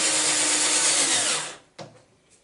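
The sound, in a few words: drill reaming a hole in a wooden toy boat part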